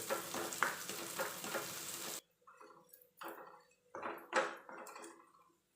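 Mustard tempering spluttering in hot oil for a fish curry, a dense crackling sizzle that cuts off abruptly and is followed by several scattered bursts of popping and hissing.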